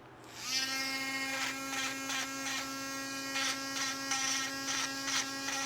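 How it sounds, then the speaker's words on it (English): A small handheld power sander works on back pieces with a high, steady motor whine that surges in repeated short pulses as it presses against the workpiece, with no talking. "I've got to sand our back pieces now"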